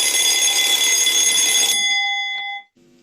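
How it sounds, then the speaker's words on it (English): An alarm clock rings loudly with a bright, steady metallic tone, then cuts off and trails into a brief faint ring and a short low tone before silence; no talk is heard. "this is an alarm clock"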